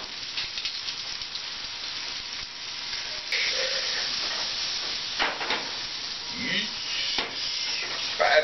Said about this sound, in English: searing, what it does as well is it traps the juices inside, but likewise creates this really nice sauce